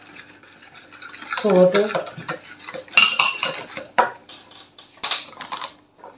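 A spoon clinks and scrapes steadily against a bowl while stirring gluten-free corn flour pancake batter, with short bursts of brisk clattering and a brief spoken word.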